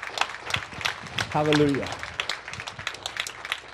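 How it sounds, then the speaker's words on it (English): A worship congregation claps along with a shouted exclamation and ongoing talk, the hand claps forming a brisk, uneven patter with a brief swell near the middle. "Give the Lord another clap of worship."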